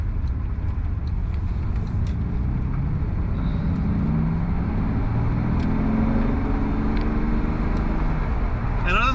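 A Lamborghini Diablo with flat-spotted tires drives on a paved road, a steady engine drone and road rumble heard from inside the car, with soft varying engine tones throughout.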